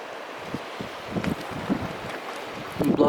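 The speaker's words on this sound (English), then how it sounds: "it got kind of windy outside." Wind gusts buffet the microphone outdoors on a backpacking trip as clouds roll in, with low rumbling bursts growing stronger toward the end.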